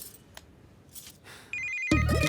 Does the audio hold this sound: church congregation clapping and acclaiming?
no